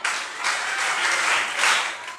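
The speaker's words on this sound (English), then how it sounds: "Please clap for them." A group applauds, dense clapping that swells and eases across a couple of seconds at moderate volume with no voices on top.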